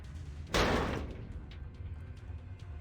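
A single sharp revolver shot rings out loudly, then decays into a short echoing tail, followed by faint scattered clicks and a quiet low rumble.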